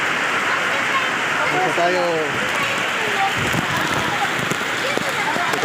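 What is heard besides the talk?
heavy rain from typhoon Carina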